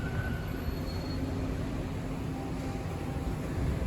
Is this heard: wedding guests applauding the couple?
no